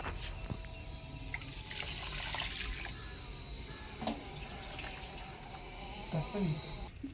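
Liquid fertilizer poured from a small tin onto garden plants, a soft trickling splash with a few clinks and small pours, faint and close, with light talking.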